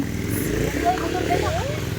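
A motorcycle engine hums steadily nearby at low pitch, running under people chatting and saying goodbyes.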